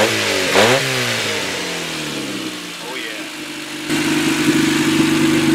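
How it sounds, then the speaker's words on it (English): Honda Del Sol engine running with open exhaust where the rest of the system rotted off, revving up and settling back to a rough idle, loud and close, with a brief exclamation from a person. "Let's give it some revs"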